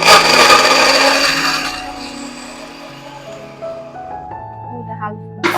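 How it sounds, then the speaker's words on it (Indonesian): Kitchen blender grinding spice paste for a spicy shredded tuna coconut-milk dish, a loud close whir that runs about two seconds and winds down in pitch as the motor slows, ending with a faint clatter. "kita blender bumbu dulu teman-teman"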